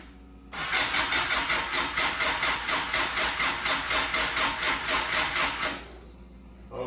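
A Suzuki GSX-R 600 motorcycle with a full exhaust cranks over on its starter, giving close, loud, rapid and evenly pulsing churning for about five seconds before cutting off abruptly.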